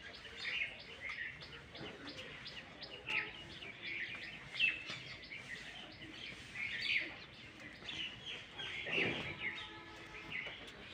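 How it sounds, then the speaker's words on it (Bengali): Small birds chirp and twitter on a quiet winter morning outdoors, their high calls coming and going from nearby, with a faint soft cooing underneath. "সকালের পরিবেশ তো নিরিবিলি পরিবেশ, পাখির কিচিরমিচির ডাক।"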